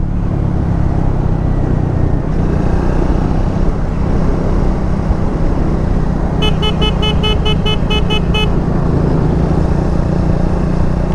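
A car horn honks in a quick series of short beeps at an approaching man over steady road and engine noise from inside a moving vehicle on NH 66 near Kankavli.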